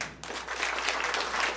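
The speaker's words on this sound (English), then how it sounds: "applaud if you would take flying as your super ability" Studio comedy audience breaks into sustained applause, a thick continuous patter of many hands clapping at an even level throughout.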